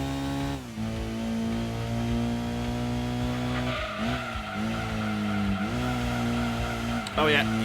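Honda NSX Type S0, mid-engine rear-drive with 284 brake horsepower, racing in Gran Turismo 2, its engine whining steadily up through gears with tire squeals near the end, while a person talks over it.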